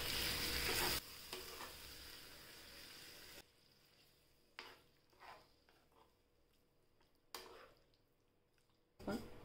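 Whisked curd being stirred into mashed potatoes in a pot for a curd potato gravy, soft scraping and wet sloshing strokes in short bursts, with a brief sizzle at the start and quiet gaps between.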